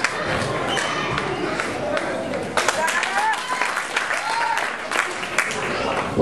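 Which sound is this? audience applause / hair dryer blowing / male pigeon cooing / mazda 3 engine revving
audience applause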